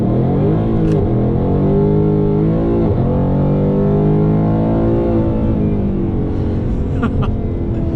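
A Ford Mustang GT engine revs loud and close on a residential street, its note climbing steadily and dropping sharply at each downshift, with deep rumbling harmonics throughout.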